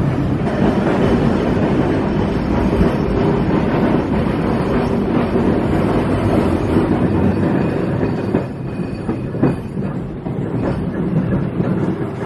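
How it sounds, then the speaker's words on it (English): Riding aboard the St. Charles streetcar in New Orleans gives a loud, steady rumble of the car and its wheels on the rails, with faint squeals and clicks. The noise holds on continuously for the whole stretch, and no one talks. "All right, so we are on the St. Charles streetcar."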